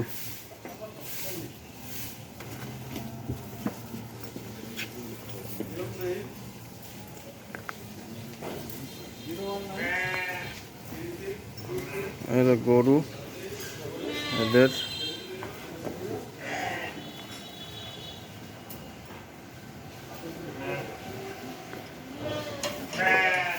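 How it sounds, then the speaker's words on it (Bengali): Sheep bleat repeatedly at a farm among cows and goats, several wavering calls rising and falling over a few seconds, with people talking throughout and livestock noises close by. "এগুলো ভেড়া"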